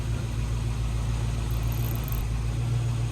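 A 1971 International truck engine, abandoned for 30 years, runs steadily after starting, a continuous low rumble with a faint high whine partway through, no talk over it.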